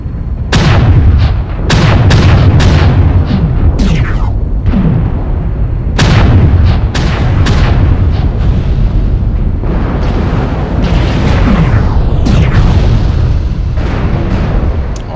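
Heavy mech weapons fire and explosions in a video game, loud repeated booming shots and blasts in irregular bursts over a constant rumbling background.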